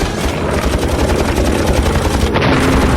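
Rapid fighter-plane gunfire from a WWII aircraft firing on a German ME-109, a dense continuous rattle of bursts over roaring engine noise, loud and close with no pause.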